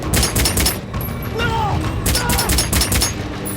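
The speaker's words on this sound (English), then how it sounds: "They're the 2 gunshots that we heard at the beginning" Gunfire from a heist scene in the film Wrath of Man, where two guards are shot: loud, sharp bursts near the start and again a couple of seconds later, over a noisy action soundtrack with brief voices.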